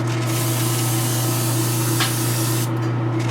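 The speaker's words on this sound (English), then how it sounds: "I usually kick on the airbrush booth, and I spray this far away, and I kind of create a dust." An airbrush in a spray booth mists white paint from a distance onto a simple statue base to give a speckled finish, a steady loud hiss that runs on with no talking.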